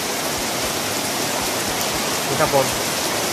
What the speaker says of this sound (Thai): รอบนี้ฝนตกแบบงามเลย